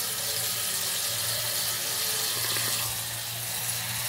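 Water being poured into a stainless steel pet drinking fountain, a steady close splashing rush that runs continuously for several seconds with no talking.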